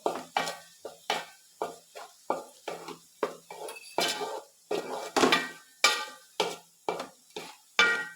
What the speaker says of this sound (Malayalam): ഇത് നല്ലപോലെ മിക്സാക്കി എടുക്കാം